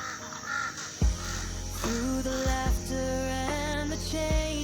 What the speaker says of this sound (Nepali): कागलाई बिस्कुट दिएको आएर मजाले खाइरहेको छ यार